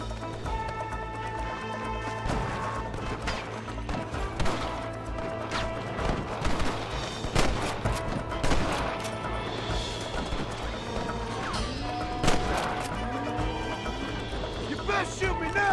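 Gunshots ring out in the Western video game Red Dead Redemption, several sharp irregular reports scattered over a busy mix of crashes, hoofbeats and loud game dialogue.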